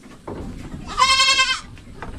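A goat on a farm lets out a single drawn-out bleat in the middle, fairly close, over a low background murmur of the farmyard.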